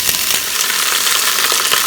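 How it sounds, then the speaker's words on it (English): Oxtails sear in hot olive oil inside a GeekChef electric pressure cooker on its sauté setting at 390 degrees, giving a loud, dense, continuous sizzle with faint crackles and no talking. "I'm just going to place my oxtails on the bottom."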